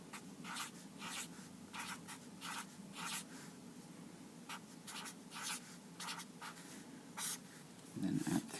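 Pencil or pen writing numbers by hand on paper in columns, a series of short, close scratchy strokes in bursts separated by brief pauses, quiet and alone with a soft thump near the end.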